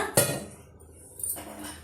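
A single sharp metallic clink of small metal pooja vessels dropping into a pot for cleaning, followed by a quieter clatter a second later, close by.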